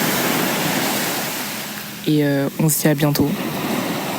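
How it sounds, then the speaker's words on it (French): Ocean waves breaking on the shore make a broad, steady rushing wash, fairly close, and a person speaks briefly over the surf near the end. "Je vous laisse un peu avec les vagues."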